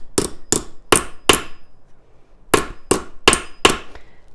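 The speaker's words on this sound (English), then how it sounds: "I'm going to just take a regular hammer and flatten this out some." A regular hammer flattening the end of a metal rod on a hammer log, two close, loud bursts of four sharp ringing strikes each, separated by a short pause.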